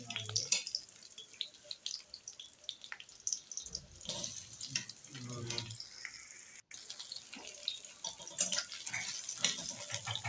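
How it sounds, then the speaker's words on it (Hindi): Onions dropped into hot oil for a desi-style egg chadachadi, crackling and spattering up close in uneven bursts, with brief clatter of utensils and occasional faint voice. "अभी तेल गरम हो गया। अभी प्याज डाल रहा हूँ।"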